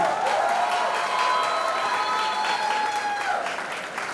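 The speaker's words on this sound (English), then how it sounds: "a big round of applause for your principal for giving Mahima this shot" Sustained audience applause at a college fest, loud and even across the whole stretch, with a few faint whistles riding above the clapping before it eases slightly at the end.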